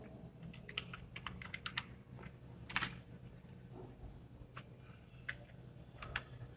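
Close, crisp keystrokes on a computer keyboard as a new password is typed for a Vodafone router settings page, coming in irregular bursts with short pauses over a low room hum, no one talking.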